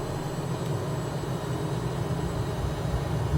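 Twin jet engines of a Cessna Citation Mustang spool at full takeoff power in a flight simulator, a steady, dense roar with broadband hiss and low rumble, continuous and unbroken throughout.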